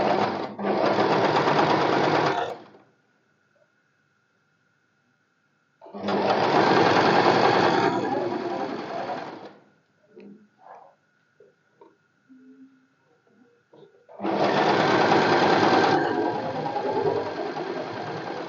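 A sewing machine stitches a deep-neck kurti in three loud, close bursts of rapid whirring, each lasting a few seconds. Quiet gaps between the bursts hold small handling clicks and rustles.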